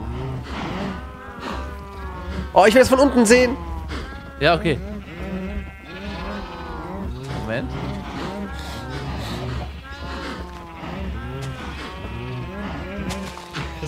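Cows in the video game Minecraft moo and low repeatedly in overlapping calls, loud and close, while two people talk over them.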